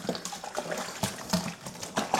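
A microfiber cloth dipped and swished in a bucket of water mixed with sodium bicarbonate, giving a steady run of close sloshing and dripping splashes with several louder surges, with no talking.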